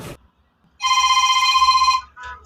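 A telephone rings with one loud, sustained warbling ring, then a second ring starts just as the clip ends, with no voices.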